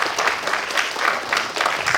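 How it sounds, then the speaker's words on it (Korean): Sustained applause from an audience at a concert honouring a performing society president, dense and even clapping throughout with slight swells, no voices on top. "박수 부탁드립니다"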